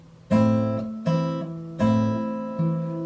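A guitar plucks the second and third strings together four times, each ringing double-note chord sustaining until the next at a slow, even pace.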